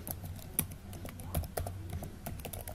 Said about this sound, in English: in the web address part, type in wellsfargo.com